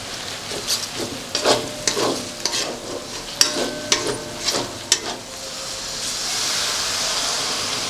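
A spoon scrapes a spice paste of turmeric, sugar and Kashmiri and hot chilli powders around a pan for chicken kofta curry: about ten rhythmic stirring strokes over a sizzle, then a steadier hiss alone.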